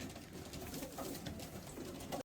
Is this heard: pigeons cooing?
yes